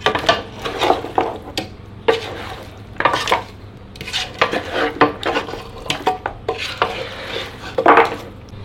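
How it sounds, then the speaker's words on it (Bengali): Ingredients for nehari being mixed in a metal cooking pot with a ladle, giving repeated scraping and clinking stirs in uneven bursts, fairly close and loud, with no talking. "এখন আমি একটু নাড়ু দিয়ে মাখাচ্ছি"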